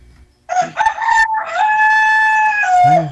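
A rooster crows once, loud and close, its long drawn-out call rising then holding steady before trailing off.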